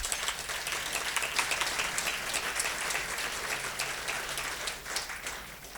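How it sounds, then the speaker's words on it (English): An audience at a Montana business chamber event breaks into applause, a thick, sustained patter of many hands clapping at a steady, fairly loud level with no speech over it. "I think that's worth an applause."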